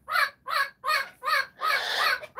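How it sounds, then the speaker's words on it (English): Pet parrot giving contact calls in answer to wild parrots flying over: five loud, harsh, raspy squawks in an even rhythm, the last one stretched longer, close by with no talking. "the wild parrots fly over, which is really sad, and he hears them, and so he's doing contact calls."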